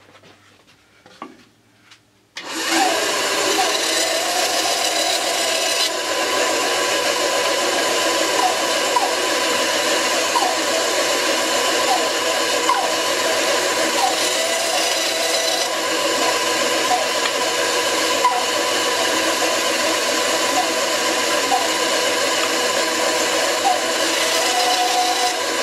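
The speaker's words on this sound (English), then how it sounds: "I'm going to take advantage of the fact that I have a bandsaw and saw out 3 pieces that will fit on here" Bandsaw cutting out wooden pieces: a short pause, then the saw runs as a loud, steady whirring hiss for over twenty seconds, close by and continuous.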